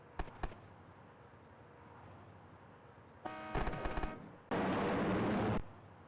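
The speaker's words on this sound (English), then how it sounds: "Did that plane just throw missiles at us?" Missile blasts in the Amiga car game Major Motion: a couple of sharp early pops, then two loud bursts of harsh noisy explosion, the second a long, steady roar before cutting off abruptly.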